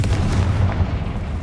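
Confringo blast spell in Hogwarts Legacy: a single deep booming burst hits at once and rolls off into a low rumbling decay, loud and close with no voices.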